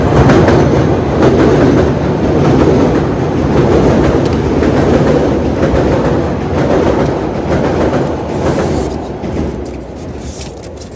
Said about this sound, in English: I'm gonna look in here because the train is coming.